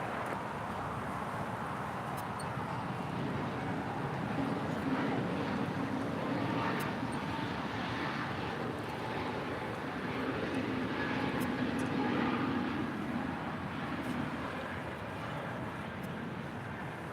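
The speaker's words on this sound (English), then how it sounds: "That is Avianca Flight 641 departing to Guatemala City on a brand new A320 Neo" An Avianca Airbus A320neo jet departs LAX runway 7 left with a steady, broad engine roar that swells and fades gently over a long stretch, alongside some wind buffeting.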